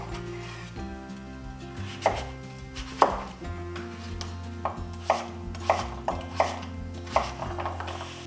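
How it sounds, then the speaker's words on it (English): Butternut squash being diced with a knife on a cutting board, a series of firm, close chopping thuds at irregular intervals, quiet between cuts, no talking. "just carefully dice into planks, keeping your fingers away from your knife"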